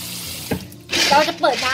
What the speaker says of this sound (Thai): ก็เปิดน้ำค่ะ